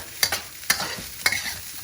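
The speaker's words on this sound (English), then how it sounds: "That's your rice frying up." Onion and rice fry in a hot pan for fried rice, a soft sizzle broken by three or four sharp scraping strokes of a spatula stirring and flipping, close and with no talking.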